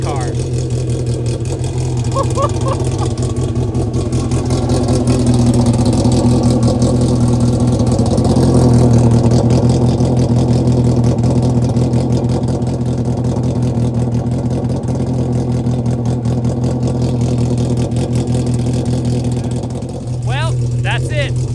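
A Polaris RZR Pro R fitted with a GGB sport exhaust idles with a lumpy, throbbing burble, swelling in a steady rev around the middle before settling, with someone talking over it.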